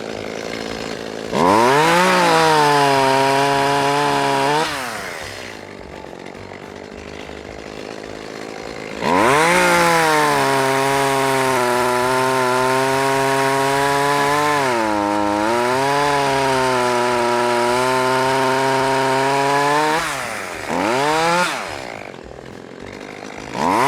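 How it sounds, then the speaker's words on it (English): Small freshly sharpened chainsaw cutting into a leaning tree, loud revving bursts under load that drop to idle and return, three cuts in a rough rhythm. "I got that little saw. I went and sharpened it"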